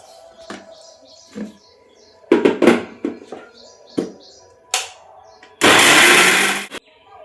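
A mixer grinder jar loaded with green pigeon peas, coconut and shallots clinks and knocks, then runs in one loud, roaring whir of about a second before stopping abruptly.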